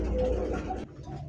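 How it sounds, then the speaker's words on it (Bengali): Pigeons at a pigeon market, among them a pair of Tiger Grivas pigeons, coo in a low continuous murmur, close and fairly loud, mixed with busy market background noise. "দর্শক দেখতে পাচ্ছেন চমৎকার আরো এক জোড়া আছে টাইগার গ্রিভাস কবুতর।"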